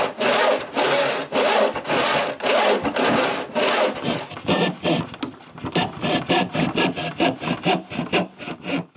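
A hand saw cuts through wood for a lounge chair, making a 45-degree decorative cut. Steady back-and-forth strokes rasp close and loud, speeding into quicker, shorter strokes toward the end, with no talking.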